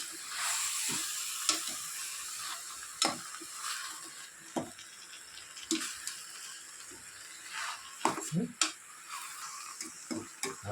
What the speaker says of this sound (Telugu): మొత్తం కలిసేలాగా మిక్స్ చేసుకుంటున్నాను